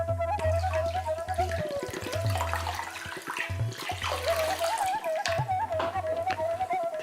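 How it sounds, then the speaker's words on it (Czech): Feet are rinsed in a basin of clean water during a foot bath, with sloshing and splashing broken by short pauses, close and moderately loud, over a tonal hum, with no talking. "si můžeme chodidla opláchnout v čisté vodě."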